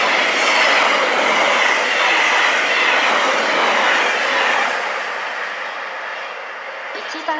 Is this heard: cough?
no